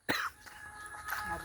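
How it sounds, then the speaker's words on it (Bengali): A person gives one short, quiet cough, followed by faint room noise. "কাশি উঠে গেছে"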